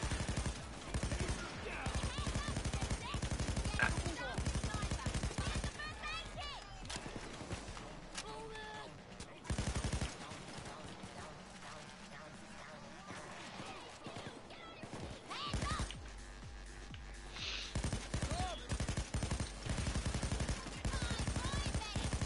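Rapid bursts of gunfire in the video game Payday 2, a loud fusillade of shots crackling in clusters over several seconds, with a player talking now and then.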